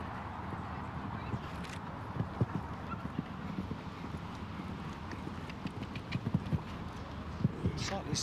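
Horse hooves drumming on turf during a show jumping round at Hickstead's Royal International Horse Show, soft irregular thuds under a steady crowd and commentary murmur, with a voice talking over them.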